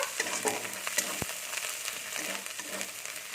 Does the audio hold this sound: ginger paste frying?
yes